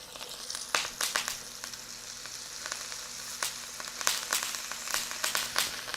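Potatoes sizzling in a hot pan, a continuous crackling fry with frequent sharp pops and spatters rising above the steady hiss, close and alone.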